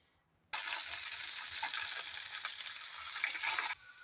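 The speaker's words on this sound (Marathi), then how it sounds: "कढईमध्ये तेल गरम करत ठेवलं आहे आता त्यामध्ये मी पुऱ्या तळून घेते" A steady, loud hiss and crackle of puris frying in hot oil in a kadai, starting abruptly and continuing evenly before dropping off at the end.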